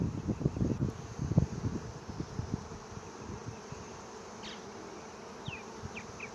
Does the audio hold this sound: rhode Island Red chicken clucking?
no